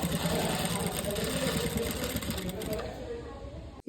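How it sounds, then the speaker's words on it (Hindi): A sewing machine runs close by as it stitches along the piping edge of a blouse, a rapid whirring rattle that slows and fades near the end before a brief knock. "इस तरीके से हमें गोल गोल इसको घुमाते जाना है और इसे एज पे हमें सिलाई लगानी है।"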